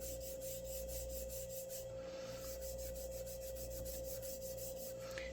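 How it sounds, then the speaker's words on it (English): Quiet, quick back-and-forth sanding strokes rasp against a wooden model ship's rails in a steady rhythm over a constant low hum. "A little bit too exuberant in my sanding."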